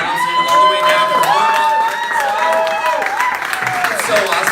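Comedy show audience applauding and cheering, a dense wash of clapping and whoops with shouts rising over it, sustained and loud throughout, with a host's voice faintly threaded through the crowd.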